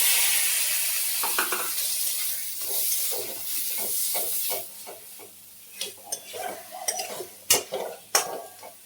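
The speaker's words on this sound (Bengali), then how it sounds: "মশলায় তেল ছেড়ে দিয়েছে, এবারে মটরগুলো দিয়ে দেবো।" Peas go into a pan of spiced oil and yogurt and fry with a continuous sizzling hiss that fades, then a spoon scrapes and clinks against the pan in a quick, irregular series of stirring strokes.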